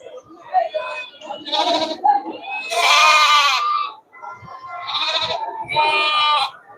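Sheep and goats at a weekly goat market in Melapalayam, Tamil Nadu, several loud nearby bleats in a row, one long and strained, overlapping with someone talking.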